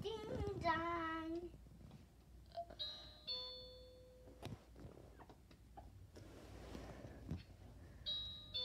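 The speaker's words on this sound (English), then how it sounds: "Ding dong." A doorbell chimes in two short bursts of bright tones, one in the middle and one near the end, after a brief meowing cry at the start, against an otherwise quiet room.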